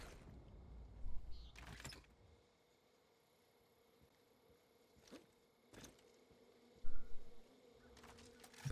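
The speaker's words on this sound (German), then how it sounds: "Ein paar Wespen oder Bienen oder sowas." Wasps or bees in Far Cry New Dawn buzz faintly as a thin steady drone, punctuated by a few brief louder game noises and thumps.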